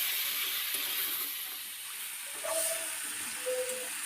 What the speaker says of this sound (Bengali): এখন আলু আর ডালের বড়িটা দিয়ে আরও একবার এইভাবে মিশিয়ে কষিয়ে নিচ্ছি